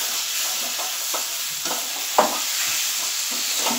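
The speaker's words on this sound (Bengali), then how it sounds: "দেখুন, এটা দিয়ে আমি খুব ভালো করে একটু কষিয়ে নেব আর অল্প অল্প জল দেব, কারণ লেগে যাচ্ছে।" Chicken stomach is stirred and scraped in a hot pan, a steady sizzle of frying under it and soft spatula strokes knocking now and then, with no voices.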